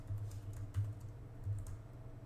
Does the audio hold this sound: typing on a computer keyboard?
yes